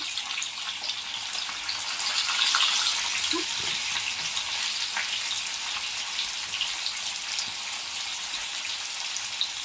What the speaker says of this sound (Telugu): సో ఆనియన్స్ ఇలా ఫ్రై అయ్యాయి